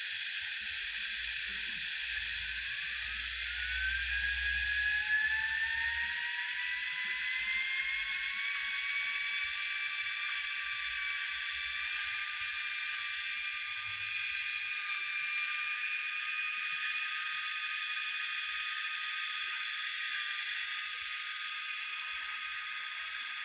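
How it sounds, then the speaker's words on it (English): A small 3D-printed model jet engine runs with a steady high whine that rises in pitch as it spools up and then holds, with an airy hiss beneath and some low rumbling handling noise early on. "Here's another Thingiverse favorite of mine, a jet engine."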